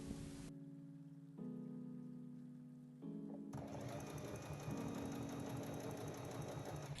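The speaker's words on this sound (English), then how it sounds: "then we're going to stitch along that line." A sewing machine runs in steady bursts while stitching folded bias binding along the edge of a skirt upcycled from a summer dress, its rapid mechanical whirr shifting pitch between runs.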